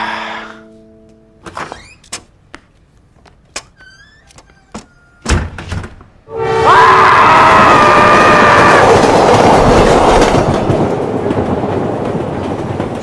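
Inside a passenger train, a few door thunks and clicks give way to a loud, steady rolling rumble on the rails that fills the second half, with no talking.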